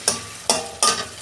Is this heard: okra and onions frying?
yes